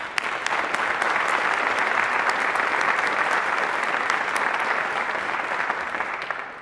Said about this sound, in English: First, please give a big round of applause to our Assistant Director, Mr. Keith Klan.